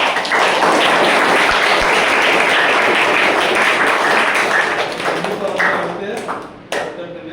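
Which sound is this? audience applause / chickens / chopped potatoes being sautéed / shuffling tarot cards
audience applause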